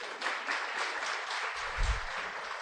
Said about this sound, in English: can we also clap for F Mpanga advocates?